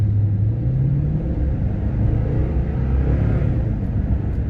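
A Toyota Tundra pulling hard in first gear with tow haul mode engaged, the engine note rising into a long held gear, with a steady low rumble and engine drone throughout.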